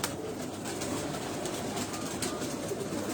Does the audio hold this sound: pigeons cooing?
yes